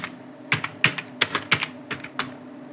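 Keys clatter on a computer keyboard as a list volume command is entered, about a dozen crisp close keystrokes in an uneven quick rhythm with no talking over them.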